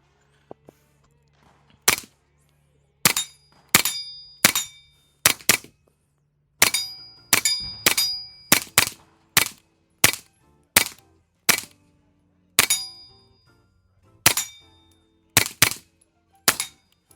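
Suppressed 9mm subsonic shots from a BOE Incolite 9S suppressor crack one after another at an uneven pace, about twenty sharp reports with metallic pings between them and short decays.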